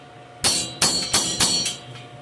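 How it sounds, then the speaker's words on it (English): Hammer driving a cold chisel into metal while fitting a model live steam locomotive's boiler and ash pan: four sharp ringing strikes at a steady, unhurried pace, close and loud with metallic ring between blows. "a technique you don't see very often is using a cold chisel"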